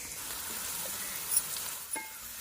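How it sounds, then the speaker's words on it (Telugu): Chopped onions and green chillies frying in hot oil, giving a steady bright sizzle with a couple of brief louder pops, close and without speech. "ఈ ఉల్లిపాయ ముక్కలు దోరకాయ వేపుకోవాలండి"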